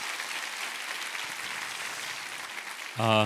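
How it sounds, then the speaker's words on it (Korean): A church congregation applauds during a Christmas worship service, a steady dense clapping that runs for about three seconds before a voice cuts in at the end. "수고하신 모든 특선팀들에게 한번 감사의 박수 드리겠습니다."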